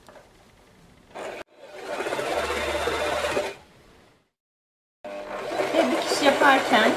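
A Janome sewing machine runs a normal straight stitch in bursts, its motor whirring steadily for about two seconds, stopping, then starting again close to the microphone, with no talk over it.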